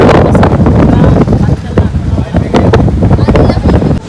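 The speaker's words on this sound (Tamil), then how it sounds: "காற்று ரொம்ப பயங்கரமாக அடிச்சுக்கிட்டே இருக்குது" Strong wind buffets the microphone during a road trip from Coimbatore to Palakkad, loud gusty roaring with rapid bursts running continuously, with voices partly audible beneath it.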